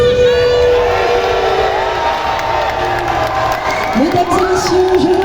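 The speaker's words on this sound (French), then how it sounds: "je crois que je n'ai pas assez entendu du bruit pour Brigitte" Loud crowd at a Japan Expo fan convention cheering and shouting continuously, with whoops and children's shrieks rising above the roar toward the end.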